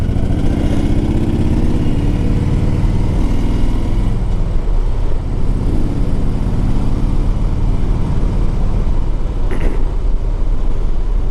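A 2004 Harley-Davidson Road King Custom V-twin runs steadily, a loud, close, continuous low rumble with a lumpy idle character, heard alone without talk.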